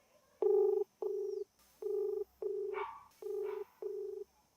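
Six evenly spaced electronic ring tones, each about half a second long with a short gap between them, clear and steady over a faint hiss and light background noise.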